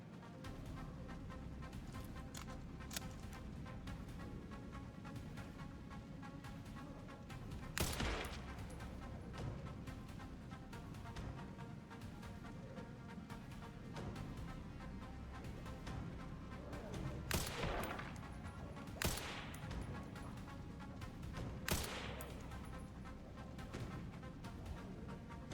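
Gunfire in Resident Evil Requiem, faint bursts of shots scattered through a continuous low game rumble, with a few sharper loud cracks standing out at intervals.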